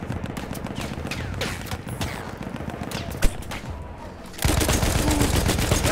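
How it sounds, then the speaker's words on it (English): Heavy machine gun fire in Battlefield 1 rattles in dense, continuous bursts, loud and close, with one sharp louder crack partway through and a fuller, heavier roar of fire near the end. "I knew there was a heavy machine gun"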